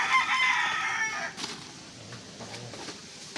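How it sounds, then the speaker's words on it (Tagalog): A fighting rooster crows loudly up close beside a river, a drawn-out strained call, followed by quieter outdoor rustling and faint background noise. "mga manok dito mga panabong, manok ko"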